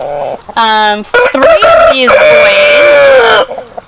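Cornish cross meat chickens at an animal rescue, clucking and calling nearby in a run of clear, harmonic vocalizations with short pauses between bursts.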